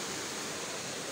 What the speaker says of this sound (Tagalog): Ay, lakas ng agos.